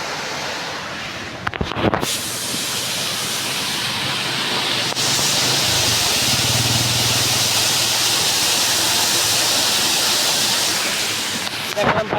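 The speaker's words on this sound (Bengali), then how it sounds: "এই দেখুন পানি লাফায় যাচ্ছে পানি" Water sprays and leaps over the gates of the Teesta Barrage as a loud, hissing torrent that swells and stays steady, with brief handling knocks near the start and end.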